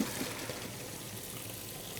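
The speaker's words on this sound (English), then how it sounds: "pour potato and hot liquid water like this away from yourself." Boiled potatoes and hot water from cooking shepherd's pie pour into a strainer, giving a steady close splashing gush that runs the whole short stretch without talk.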